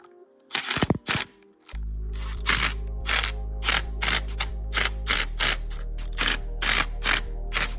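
Ratchet tightening fittings on a catch can installed on an Audi A4 B8.5 with a turbocharged engine, starting with a few sharp clicks and then running into a long series of steady, close, loud ratcheting strokes.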